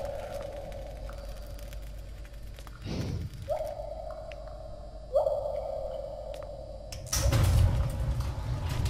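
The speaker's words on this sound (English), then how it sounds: "Freaking doors." Doors sliding open and closed in a game, with several long whooshing mechanical slides followed by a louder heavy thud near the end, heard fairly close with no talking.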